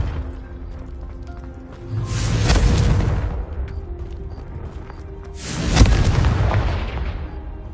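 Two deep, booming explosions from the Confringo fire spell in Hogwarts Legacy, each a heavy roaring blast that swells and decays over a couple of seconds, with no talking.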